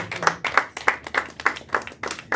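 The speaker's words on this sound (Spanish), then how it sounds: "lo recibamos con un fuerte aplauso" Audience applause at a church gathering, rhythmic group clapping in regular bursts, moderately faint and without talk over it.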